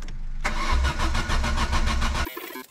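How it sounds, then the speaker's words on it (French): A V8 car engine cranks and catches on a weak but not fully dead battery, bursting loudly into a rough, pulsing idle up close before cutting off abruptly. "Et si ta batterie n'est pas complètement morte, ça démarre."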